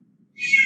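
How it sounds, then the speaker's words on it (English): A house cat gives a short, high, tonal meow, faint at first and then abruptly loud and close, lasting under half a second. "Please excuse my cat."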